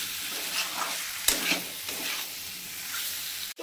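Jackfruit curry with prawns is stir-fried in a pan, a dense steady sizzle layered with spatula scrapes and a sharp knock at the end, with no speech.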